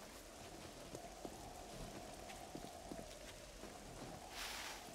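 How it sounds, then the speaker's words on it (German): Steady rain falls in the game 7 Days to Die, a constant soft hiss of drops on surfaces with scattered sharper patters, quiet and even throughout, and no speech. "Das ist gar nicht geil, dass es regnet auch noch."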